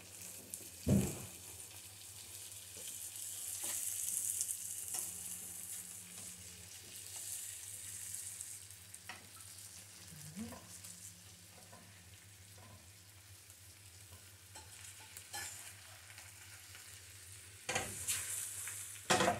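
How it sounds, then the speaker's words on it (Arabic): Chicory sizzling in a frying pan as the pieces are turned over, a soft, steady frying hiss with occasional clinks and scrapes of the utensil against the pan. "وتنقلب الشيكوري ديالي، تنقلبو بالجهه الاخرى هكا"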